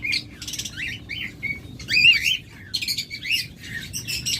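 Lovebirds, high-mutation breeding pairs, squawk and chirp in rapid, shrill bursts, close by and fairly loud, with no talking.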